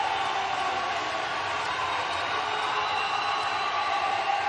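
A basketball arena crowd roars during a defensive possession in a Hawaii vs. UCSB game, a dense, sustained wash of cheering and whoops that stays loud and steady throughout.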